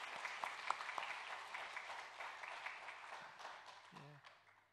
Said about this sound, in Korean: 격려와 감사의 박수 한번 합니다